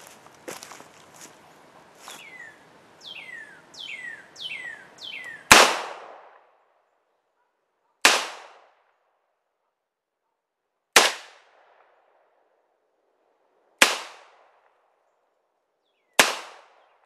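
Five loud, sharp gunshots from a Ruger GP100 revolver firing mixed ammunition ring out alone, spaced a few seconds apart, after a stretch of quieter handling noise and faint birdsong.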